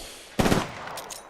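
Video game gunfire: a sudden short burst of rapid automatic shots, loud and close, followed by a fading tail and a few faint later pops.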